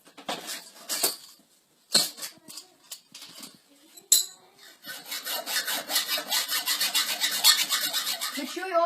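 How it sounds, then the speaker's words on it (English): A scooter being cut down by 10 centimeters gives a few scattered scrapes and knocks, then a steady rasping sawing stroke that repeats rhythmically, close and fairly loud. "Next you have to cut 10 centimeters off your scooter."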